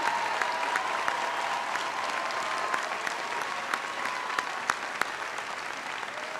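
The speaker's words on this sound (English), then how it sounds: "Paul Hodes, Carol Shea Porter, give them a big round of applause" Steady applause from a large crowd, continuous clapping throughout with a few sharper claps standing out, no voices over it.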